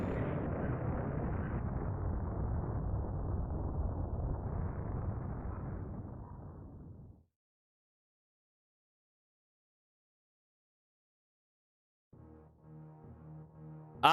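A deep, rumbling explosion in Super Metroid rolls on loudly for about seven seconds and fades out, followed by a stretch of silence and then soft music with tonal chimes.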